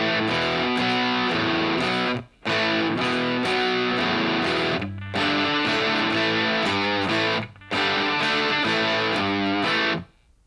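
Gritty electric guitar plays the chorus section of a song, dense strummed distorted chords in three long phrases broken by short pauses, loud and upfront.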